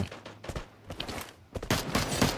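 Gunfire in the battle royale game Free Fire, sharp scattered shots and short bursts, quieter at first and then a louder, denser volley near the end.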